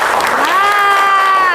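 Students in a classroom clap together, a loud dense burst of applause mixed with a few sustained voices, filling the whole short moment.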